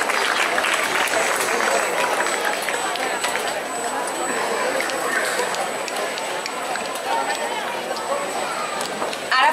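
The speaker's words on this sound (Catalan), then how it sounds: "Un aplaudiment per a elles." An audience at a children's folk dance gathering in Benicarló applauds a young dance group, with continuous clapping and crowd noise running the whole length at a fairly loud, even level, and a thin high tone persisting above it.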